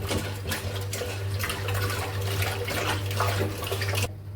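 Running tap water pours steadily over cut pangas fish being washed in a kitchen, a continuous close splashing stream with a low hum beneath, stopping abruptly near the end.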